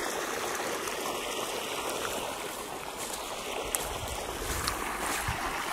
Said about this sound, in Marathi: देखे दोस्तो कैसे जा रहा है बिल में पाणी